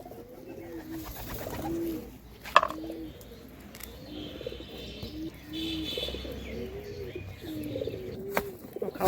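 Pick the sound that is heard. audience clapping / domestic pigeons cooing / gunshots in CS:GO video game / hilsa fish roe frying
domestic pigeons cooing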